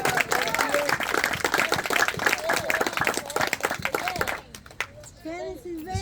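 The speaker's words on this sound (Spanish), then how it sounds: "Dale un fuerte aplauso a Jesús" A church congregation applauds with steady, dense clapping under loud talk and shouting from a preacher, the clapping thinning out toward the end.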